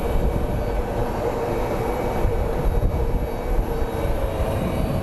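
Steady, loud broadband roar of jet airplane engines at Sky Harbor International Airport in Phoenix, a continuous rumble of a large plane passing at a distance without talk.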